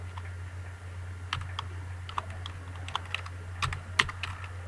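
C code being typed on a computer keyboard, with irregular close key clicks and a few louder taps over a steady low electrical hum and no talking.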